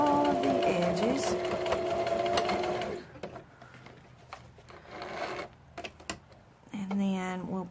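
A sewing machine stitches straight seams around the edges of fabric scraps, running in a loud, rapid whir that stops partway and then starts again, with a voice speaking during the pause.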